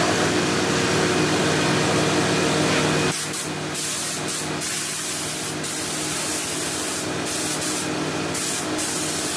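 A spray gun sprays paint in a continuous loud hiss. After a few seconds the sound thins into a lighter, uneven spray with short bursts.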